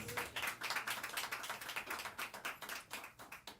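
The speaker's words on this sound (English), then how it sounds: "Oh, please give her a round of applause." A small audience claps for a mentor and author at an event on Haitian Revolution history, with quick, fairly faint rhythmic hand claps lasting a few seconds.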